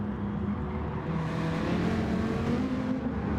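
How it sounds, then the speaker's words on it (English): A Corvette race car in a touring car racing video game closes in from behind, its engine a steady, loud droning roar that rises slightly in pitch as it accelerates, with no talk over it. "with the Corvette of Ray coming up fast from behind"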